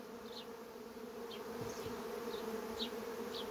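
Honey bees hum at a colony hive, a steady low drone with individual bees zipping past now and then, faint and close with no talking.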